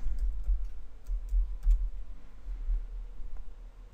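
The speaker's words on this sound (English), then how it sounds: "I use this up arrow key, which is Shift 6 on my keyboard, and hit 2 to square it." Typing on a computer keyboard while entering a spreadsheet formula, a string of close, light key clicks in quick irregular bursts over soft room hum, with no talk.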